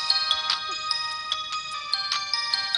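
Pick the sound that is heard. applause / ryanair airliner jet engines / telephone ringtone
telephone ringtone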